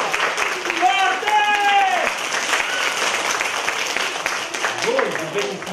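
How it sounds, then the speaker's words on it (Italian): An audience applauds loudly at a children's storytelling of the three little pigs, steady clapping throughout, with voices shouting and calling out over it. "Un bel applauso all'inizio!"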